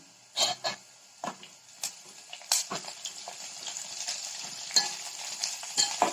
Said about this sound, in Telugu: కరివేపాకు వేస్తున్నాం